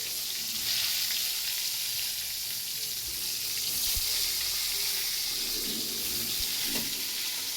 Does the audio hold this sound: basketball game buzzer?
no